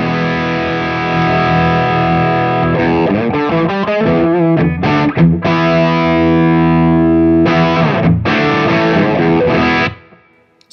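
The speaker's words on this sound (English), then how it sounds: "On to the Tube Screamer." An electric guitar driven through a Tube Screamer overdrive pedal, tone at noon and drive turned all the way down, plays sustained chords and riffs with mild grit, ringing loudly before cutting off near the end.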